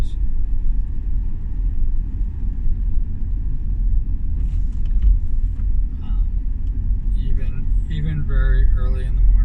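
Car driving on an early-morning commute, with a steady low road and engine rumble throughout and a brief higher passing-vehicle swell near the end.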